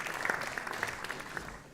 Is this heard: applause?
yes